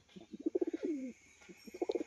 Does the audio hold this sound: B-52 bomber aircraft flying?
no